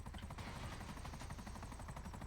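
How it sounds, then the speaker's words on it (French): A helicopter hovers overhead in the GTA roleplay game, its rotor producing a loud, continuous rhythmic chop over steady engine noise throughout. "C'est qui l'hélico au-dessus de nous là?"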